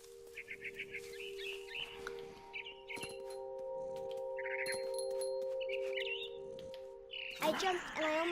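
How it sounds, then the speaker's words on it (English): Barn swallow chirping in the video game What Remains of Edith Finch, short bursts of twittering calls repeated over a sustained musical drone, ending in a louder flurry. "Then I heard chirping outside my window. It was a barn swallow going back to her nest."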